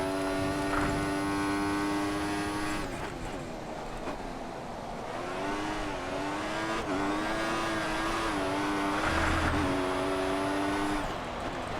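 An F1 car engine in F1 2014 screams through repeated accelerations around the Spain circuit, its high whine climbing in pitch, dropping sharply at each gear change, then rising again, loud and close.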